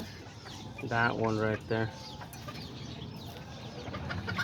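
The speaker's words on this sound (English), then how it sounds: "that's one of my other little roosters" A young rooster among Kikiriki and Azteca chickens gives a few loud, close clucks in short bursts, followed by quieter farmyard background while someone talks.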